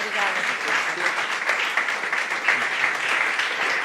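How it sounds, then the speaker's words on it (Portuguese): Church congregation applauding during a service, a continuous, fairly loud burst of many hands clapping with a murmur of voices mixed in. "Damos um aplauso para Jesus."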